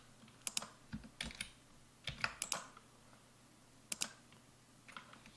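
Computer keyboard keys pressed in scattered quick clicks and short bursts during PLC programming work, close and fairly quiet, with no talking.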